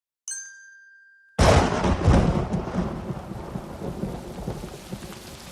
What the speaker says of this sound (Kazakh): Алақай, жаңбыр жауып тұр! Мәссаған, қандай күшті!